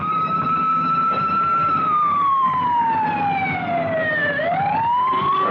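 Fire engine sirens wail loudly on a night-time street in Campsie, where crews attend two fires including a bedding shop, with a sustained tone that slowly falls and then rises again over rumbling traffic.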